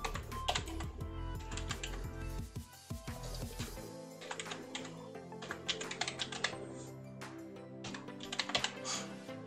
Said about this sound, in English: Then type in your email